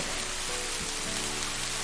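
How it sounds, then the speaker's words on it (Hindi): Heavy rain pours in a cartoon story, a dense, loud, continuous hiss of downpour filling the short moment with no voices. "देखते ही देखते बारिश इतनी ज़्यादा हो जाती है"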